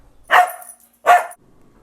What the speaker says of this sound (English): and this is our dog